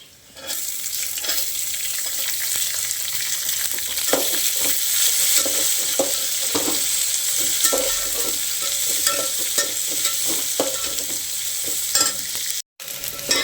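Onion sautéing for pulao with whole spices and cashews, a continuous loud sizzle and hiss with repeated spoon stirring and scraping against the pan, close by, without voices, briefly cut off near the end.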